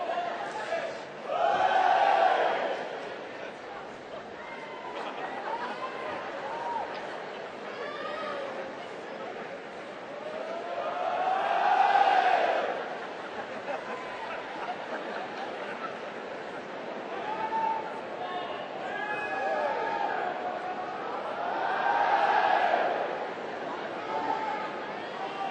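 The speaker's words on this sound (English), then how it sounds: "The Swedish crowd chanting, "We are Swedish, who are you?"" A Swedish tennis crowd at the 1998 Australian Open quarterfinal chants in rising and falling waves, with several swells of massed voices over a steady background of arena chatter.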